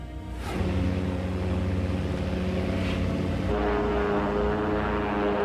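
A passenger aircraft carrying a Uruguayan rugby team in flight, 1972, gives a steady, loud droning engine hum with low tonal bands that holds throughout without speech.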